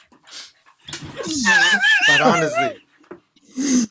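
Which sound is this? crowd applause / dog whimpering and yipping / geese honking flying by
dog whimpering and yipping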